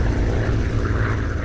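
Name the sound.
twin-prop Convair 340-580 airplane flying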